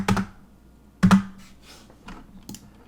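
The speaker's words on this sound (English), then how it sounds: "we have to hit N on the keyboard" Computer keys are struck while working in Blender: two sharp, loud clacks about a second apart, then two softer taps trailing off, close up with no talk.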